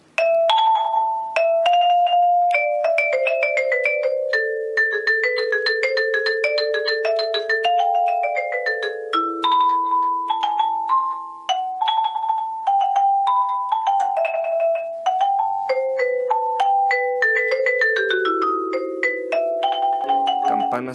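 A xylophone plays a continuous melodic line of bright, quick struck notes with short decays, moving up and down in steady runs, alone and close with no talking.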